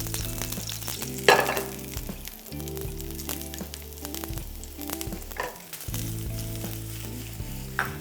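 Garlic frying in hot olive oil in a pan, giving a steady, dense sizzle throughout with background music underneath.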